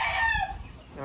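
A fighting rooster gives a single short crow, fairly faint and slightly distant, breaking off after about half a second.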